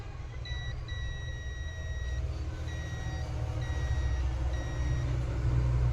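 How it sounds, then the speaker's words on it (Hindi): A multimeter switched to continuity buzzer mode while checking laptop battery BMS connections gives short, evenly spaced high beeps, repeated in a steady pattern over a constant low background hum. "अब ये बजर मोड पे आ गया"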